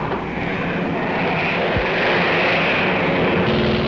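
WW2 bomber propeller engines drone steadily in combat footage, a loud, continuous, close roar with no pauses and no talk.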